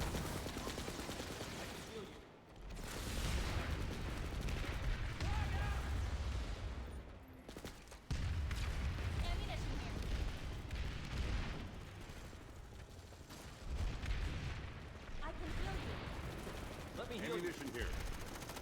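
Dense, continuous gunfire and heavy weapon bursts from PlanetSide 2 fill the whole stretch, loud and close, with a couple of brief gaps, while players' voices talk over the firefight.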